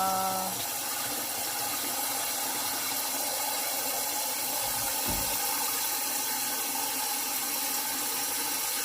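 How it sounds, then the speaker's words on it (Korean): Tap water runs steadily into a sink being filled to wash cabbage, a constant broadband hiss with a brief knock midway, close and alone without voices. "물을 받아놓고 양배추를 씻습니다"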